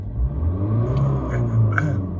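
A Volvo C30 with a 1.6 diesel engine idles and runs steadily, a continuous low rumble with a slight rise in revs near the end, heard close and alone.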